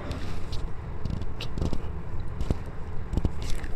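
Chopped onion frying in oil in a pan, a steady close sizzle with soft crackles and occasional sharp pops, no talking.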